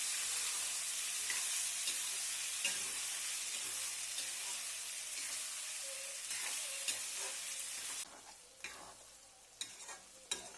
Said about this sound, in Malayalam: നമ്മൾ അരിഞ്ഞു വെച്ച കുമ്പളങ്ങ അതിലോട്ട് ചേർത്തു എന്നിട്ടൊന്ന് വഴറ്റിയെടുക്കണം